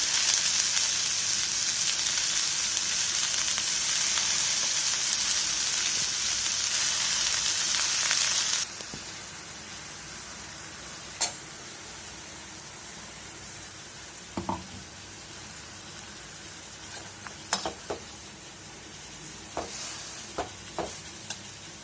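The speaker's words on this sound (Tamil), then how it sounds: "இது நல்லா வெந்து தேங்காய் பச்சை வாசனை போகிற அளவுக்கு வேக விடுங்க." Kothavarangai avial with ground coconut paste sizzles loudly in a pan for the first several seconds, then drops to a quieter bubbling simmer with occasional soft clicks and stirring taps, close by with no talking.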